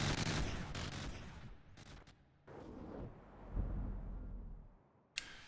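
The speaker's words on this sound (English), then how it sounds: "Now we're firing the supercavitation shells against the submarine, which should do some pretty decent damage against it." Supercavitation shells fire at a submarine in From The Depths, a rapid volley of sharp shots and thuds followed by deep rumbling impacts and a final sharp crack, loud with no talk.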